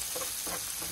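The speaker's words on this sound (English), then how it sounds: "So I'm gonna keep sautéing this up until it browns." Vegan Impossible sausage crumbled and sautéing in a pan for Zuppa Toscana, a close, steady sizzle and crackle with soft stirring scrapes across the brief moment.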